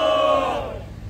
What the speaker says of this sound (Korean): 모두 함성을 부탁드리겠습니다.